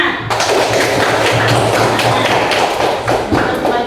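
A grade 5 classroom of students claps for a group of classmates, a dense, loud burst of clapping that runs without a break from start to end, close to the listener.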